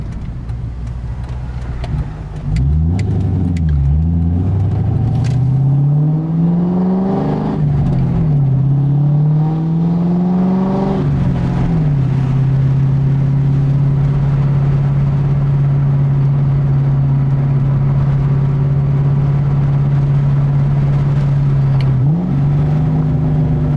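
A 2002 Mustang GT V8 with SLP exhaust revs up a few times, its deep rumble rising and falling, then settles into a loud, steady idle heard close by.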